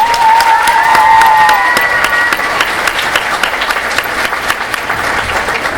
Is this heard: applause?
yes